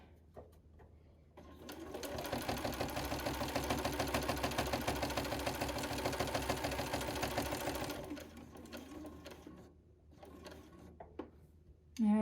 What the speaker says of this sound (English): turn my sewing machine and come right out the corner